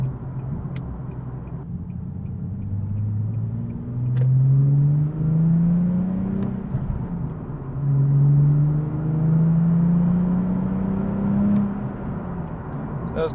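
A Nissan 370Z engine hums steadily while driving, then rises in pitch several times as it blips the revs on each downshift, a close and moderately loud in-car drone.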